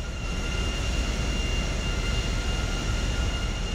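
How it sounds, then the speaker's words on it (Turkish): Airplane taxiing at an airport in GTA 5, a steady, loud jet engine roar and rumble that holds unbroken throughout with no talk over it. "uçak benim üstüne mi sürüyor?"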